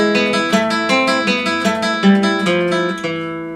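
The opening line of Malagueña on classical guitar: a quick run of plucked notes over a ringing open string, each attack sharp and bright, moving steadily forward before the last note rings out. Close, loud and without voices.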